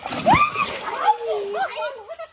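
A rupchanda fish is let go into a river with one quick splash near the start, followed by a voice talking over the fading water sounds.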